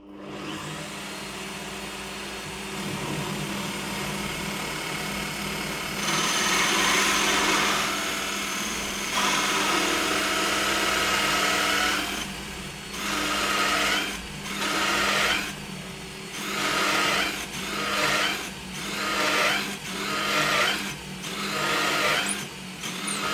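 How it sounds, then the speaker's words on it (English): A Bosch PBD 40 drill press runs with a Forstner bit, humming steadily before boring into the workpiece in a series of rhythmic cutting bursts that rise and fall in the second half. "Okay, so a couple of holes drilled and tested. Forstner bit worked very well."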